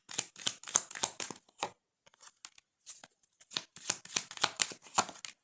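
Tarot cards being shuffled and drawn at close range: rapid bursts of crisp papery riffles and flicks, pausing briefly mid-way for a few light card taps, then resuming in another quick series of sharp snaps.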